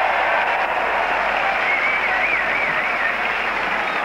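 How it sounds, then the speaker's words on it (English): A rugby league Test crowd roars for the New Zealand Kiwi side against Australia, a dense, sustained wall of cheering held at a constant loud level throughout. "The crowd absolutely rising to this Kiwi side."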